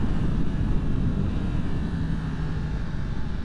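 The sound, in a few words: 2023 Yamaha MT-10 motorcycle engine accelerating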